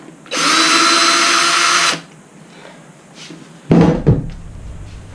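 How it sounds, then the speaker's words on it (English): A powerful electric drill reversing a screw out of a Western saddle whines loudly and steadily for about a second and a half, stops, then a couple of brief thunks and handling knocks follow. "Give me a powerful drill."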